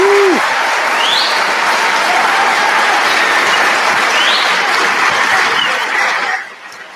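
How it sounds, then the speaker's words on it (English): A live studio audience for a taped comedy show reacts with a dense, loud wash of applause and crowd noise that holds steady before cutting off near the end, with a faint whistle or two mixed in. "I could hear a couple Christians in there booing"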